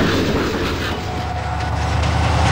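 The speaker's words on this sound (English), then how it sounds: "the engineer wastes no time getting this train onto the main line" A Burlington Northern train pulls out onto the main line, a loud, steady low rumble of engine and rolling wheels with faint rhythmic clatter throughout.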